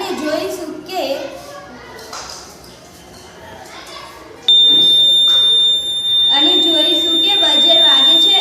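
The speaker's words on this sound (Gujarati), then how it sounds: "બઝર વાગે છે અને એલઈડી લાઇટ ચાલુ થાય છે" Buzzer on a water-drop sensor model switching on abruptly partway through, a loud steady high-pitched electronic tone that holds continuously while children talk nearby.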